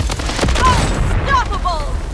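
Loud, dense bursts of gunfire in the shooter game Blood Strike fill a brief firefight, the rapid shots blending into a continuous close fusillade.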